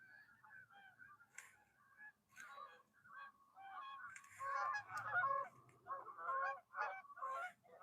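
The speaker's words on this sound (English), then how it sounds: "Bunches of Canadian geese right there. Just flew right over." Canada geese flying overhead honk repeatedly in overlapping calls outdoors, faint at first, then swelling louder and more crowded as the flock passes.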